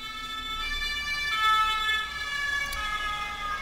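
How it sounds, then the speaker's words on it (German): An ambulance siren wails at a moderate distance, its tone swelling as it draws nearer and then easing off as it moves past, with faint traffic beneath, heard from indoors. "der Krankenwagen ist wieder unterwegs."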